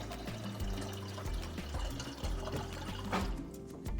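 Water from a refrigerator dispenser pours into a glass in a continuous trickling stream for a few seconds, fairly quiet, with background music.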